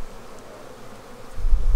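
Honey bees buzz over a brood frame lifted from a hive in freezing 25°F weather, a close, steady hum that swells louder near the end.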